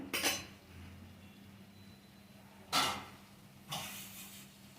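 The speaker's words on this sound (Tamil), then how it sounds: "அடுத்து தட்டை போட்டு மூடிடலாம்." A plate set over a cooking pot of potatoes as a lid, with a faint clink, then two more soft metallic clatters a second apart in a quiet kitchen.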